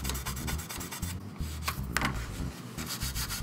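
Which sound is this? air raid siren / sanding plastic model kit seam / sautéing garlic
sanding plastic model kit seam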